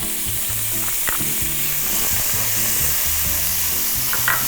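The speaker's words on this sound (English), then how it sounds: "Saute that up" Bell pepper and garlic sauté in a skillet for a one-pan BBQ chicken quinoa bake. The sizzle is steady and close, with spoon-stirring scrapes and a few brief clinks along the way.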